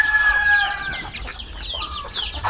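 Native chickens clucking and calling in a backyard pen, with overlapping bird sounds, a rooster-like call and continuous clucks close by.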